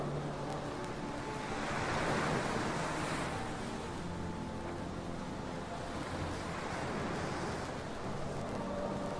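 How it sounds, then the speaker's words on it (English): Steady ocean surf washes in continuously, a broad soft roar of breaking waves with slight swells in intensity, mixed with some wind, and no voices present. "The water sounds wonderful."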